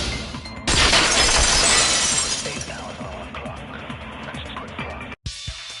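Glass shatters in the Danganronpa 2 video game, a sharp bright crash followed by a long scattering tinkle of fragments that fades before a brief cut to silence.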